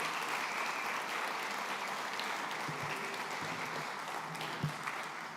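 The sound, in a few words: round of applause for sponsors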